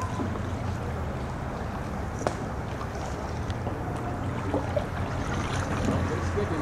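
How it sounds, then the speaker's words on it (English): A small boat is paddled through wetlands, with a steady outdoor wash of wind and water, soft dull knocks and splashes from the paddle, and low rumbling noise throughout. "Well, I got to go paddling today in some places you don't normally paddle."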